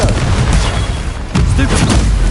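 Booming spell blasts from Confringo in the Hogwarts Legacy video game, a loud burst near the start and another after a brief dip, over dense game effects with some voice mixed in.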